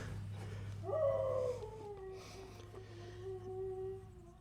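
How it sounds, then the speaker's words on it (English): A dog howls in a long, wavering, drawn-out tone, rising then sliding slowly downward, at moderate distance over a steady background hum. "The rooster's crowing and then the dogs are howling when the rooster crows."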